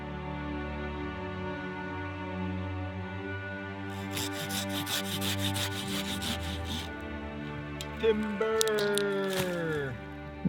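A small tree is cut down for firewood at a remote river campsite in the Canadian sub-arctic, with steady rubbing and rasping of sawing that grows denser, then a few cracks and creaks as the trunk gives way.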